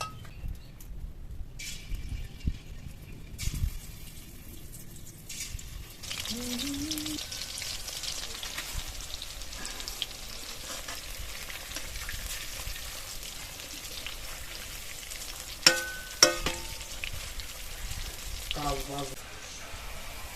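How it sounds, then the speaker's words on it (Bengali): Shrimp fry in hot white oil in a kadai wok, a steady broad sizzle lasting most of the stretch, with occasional stirring clatter and a few sharp utensil knocks near the end. "তেল গরম হয়ে গেছে, চিংড়ি মাছগুলো ছেড়ে দিয়ে ভেজে নেব।"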